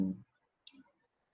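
A single crisp mouse click presses an order button while signing up for web hosting and a domain name. It follows a brief low thump and is otherwise surrounded by near silence.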